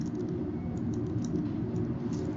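Typing on a computer keyboard while entering values in Vectorworks 2024 design software, a steady run of soft key clicks over a low background hum.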